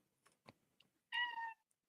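A cat gives a single clear, close meow lasting about half a second, preceded by a few faint clicks and rustles.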